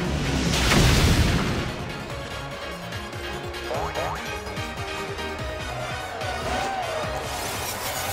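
A fiery Pyro Ball attack explodes during a Pokémon Sword stadium tournament battle, opening with a loud booming burst that rolls into a sustained crackling, rumbling blast under game music.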